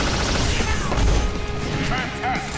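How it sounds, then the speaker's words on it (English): A heavy proton cannon blast and crashing impacts in Marvel vs. Capcom, dense and booming, with some game effects and voices mixed in. "Here's the big one. Proton cannon."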